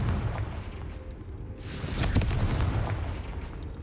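A Confringo explosive spell from the Hogwarts Legacy video game goes off as a deep, booming blast with a rumbling tail, surrounded by dense low rumble and heavy game noise.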